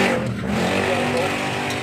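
Loud motorcycle engine roaring past outside a home kitchen where giniling with potatoes is being cooked, a steady close rumble filling the whole moment with a voice speaking over it.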